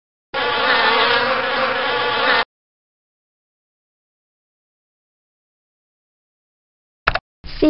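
A bee sound effect from the PC game Bailey's Book House, a dense electronic buzzing that lasts about two seconds and then stops, followed by silence and brief game sounds.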